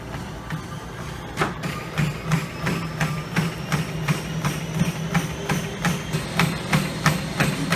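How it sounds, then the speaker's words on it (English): Feet pounding a treadmill belt during an 11 mph sprint: fast, regular thudding footfalls over the constant whir of the motor, steady and close. "He just full on sprints on the treadmill."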